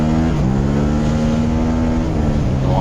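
A motorbike engine drones loud and close as it accelerates to overtake, its pitch holding steady before shifting with gear changes, with no voices over it.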